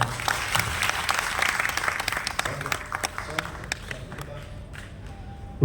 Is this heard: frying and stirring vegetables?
no